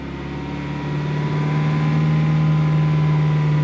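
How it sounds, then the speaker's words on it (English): A Ford EcoBoost engine, rebuilt after many problems and with its balance shaft removed, revving up from idle to a higher steady drone, loud and close with a strong low hum and no talking. "I can already tell this engine revs up a little quicker"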